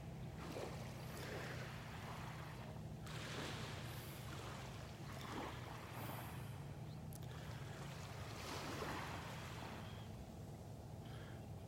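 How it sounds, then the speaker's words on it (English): Calm surf on a North Naples, Florida beach in the morning, with tiny waves lapping softly at the shore in a steady wash, gentle swells rising every few seconds over light wind rumble. "Tiny little waves lapping on the shore."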